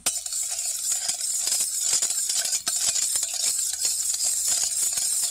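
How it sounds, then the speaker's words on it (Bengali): A spoon stirs sugar into water for homemade dry yeast, giving a steady run of close, scraping swirls with frequent light clinks against the container, with no voices. "চিনিটা যত সময় না মিলে যাচ্ছে, জলের মধ্যে গুলে যাচ্ছে, তত সময় কিন্তু জলটাকে এরকমভাবে নাড়তে থাকবে।"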